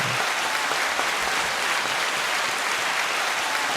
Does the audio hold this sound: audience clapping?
yes